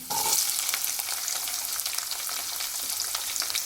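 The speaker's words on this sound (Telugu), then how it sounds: "ఇప్పుడైతే ఇంకా ఆనియన్స్ వేసుకుందాం" Steady, close sizzling and crackling of onions frying in hot oil, a continuous bright hiss with scattered pops, no talking.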